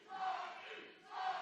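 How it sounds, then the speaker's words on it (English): A wrestling crowd at an RCW championship match roars steadily throughout, a broad, continuous wash of cheering and shouting that swells at the start and again near the end, with a whistle-like tone riding on top. "Listen to that crowd, Sean."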